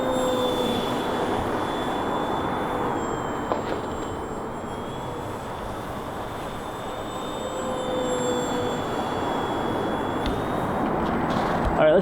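Small foam four-channel RC trainer airplane with an electric motor on a 3-cell battery, flying. A steady high motor whine shifts pitch slightly over a constant breezy outdoor background.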